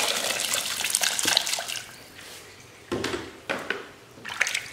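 Clean water pours from a tap over olives in a container, a bright splashing stream that comes in uneven bursts and trickles, close and moderately loud, with no voices.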